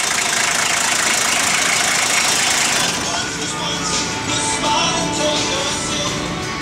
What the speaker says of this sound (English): Sounds good. Sounds like a diesel.